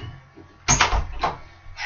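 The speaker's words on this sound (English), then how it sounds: "had to close my door" A door being closed indoors, with a muffled thud and rattle followed by a couple of softer knocks as it settles shut, fairly close.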